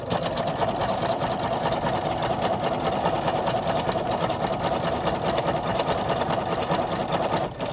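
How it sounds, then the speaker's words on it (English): A sewing machine runs continuously, stitching a second seam line on an Ohio Star quilt block a quarter inch from the first, its rapid steady mechanical whir loud and close, with no voices. "I'll do a second line of stitching"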